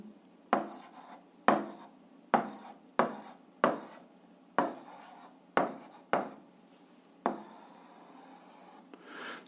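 Chalk or marker strokes on a board during a physics lesson, about ten sharp taps and scratches in an irregular rhythm, close and clear with no voice.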